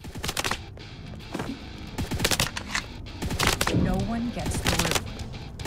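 Rapid bursts of cartoonish gunfire crackle through a boss fight in the video game Guns and Draguns, with clustered shots and short pauses between volleys.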